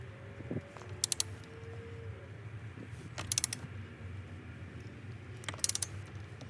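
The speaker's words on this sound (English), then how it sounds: "make sure to torque it down" A torque wrench ratchets on a nut being tightened to 37 foot-pounds on a Toyota Highlander during an airbag and steering wheel console job, three short, close bursts of quick metallic clicks over a steady low hum.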